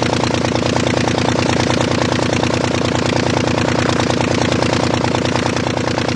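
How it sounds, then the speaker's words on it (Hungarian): An old Anzani aero engine on Blériot's early aeroplane runs steadily at close range, a loud, rapid, even mechanical chugging that continues throughout with no talking. "Beindítják a motort. A jó öreg Anzanit."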